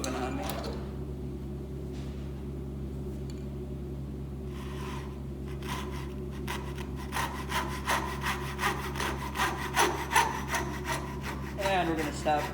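Hand saw cutting into a piece of wood clamped in a vise, starting with quiet handling, then building into a run of fast, rhythmic back-and-forth rasping strokes, close and clear, with a voice heard faintly at times.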